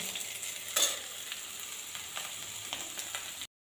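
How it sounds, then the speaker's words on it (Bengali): Fried rice sizzling in a pan with beans, carrot and capsicum, a steady hissing fry broken by scraping stirs and one louder clatter near the start, close and continuous until it stops abruptly. "তাই ফ্রাইড রাইসটাই বানাচ্ছি"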